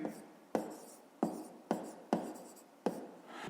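Pen strokes on paper while solving a school maths exercise, five or six short scratchy marks in quick succession, close and quiet with no voice.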